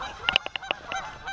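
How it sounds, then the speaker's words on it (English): Several loud goose honks in quick, irregular succession, close by, with no talking. "And there goes some very pissed off geese."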